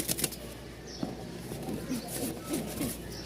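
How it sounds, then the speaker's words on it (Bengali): A frightened pigeon gives a few soft, close coos with brief wing flutters, faint in a quiet room with some low background noise. "খুব সুন্দর ডাক, মূলত কবুতরটা ভয় পাইতেছে।"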